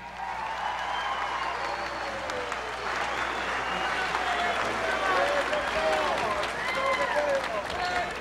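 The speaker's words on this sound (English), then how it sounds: "Please, a big round of applause for Mr. Phil Rainey." A crowd at a Southeastern Championship Wrestling legends event gives a big round of applause, dense clapping mixed with cheers and whistles, swelling slightly midway and continuing at a steady, fairly close level.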